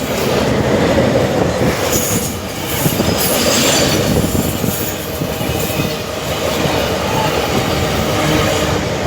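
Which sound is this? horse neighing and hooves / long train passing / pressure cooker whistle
long train passing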